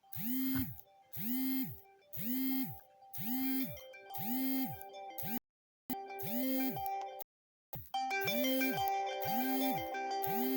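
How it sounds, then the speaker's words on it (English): A phone alarm rings close by as a repeating electronic tone pattern in regular bursts, with brief cutoffs as it is dismissed, then it resumes in a denser, brighter tone. "apparently with my phone, you need to press close 4 or 5 times to stop an alarm"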